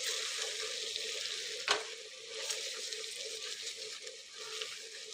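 Chicken fries in a pan: a steady, fairly quiet sizzle continues throughout, with a single sharp clack of the stirring utensil early on and softer scraping as it is turned.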